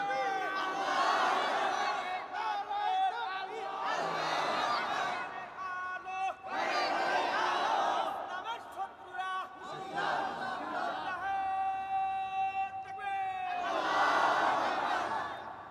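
Large crowd at a Bangla religious sermon repeatedly shouting the takbir Allahu Akbar in unison, several loud waves of massed voices rising and falling, close and energetic.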